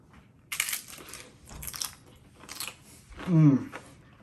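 Someone eats seafood ceviche with crunchy tortilla chips, giving a few crisp bites and crunches spaced about a second apart, close to the ear, followed by a short louder chewing sound.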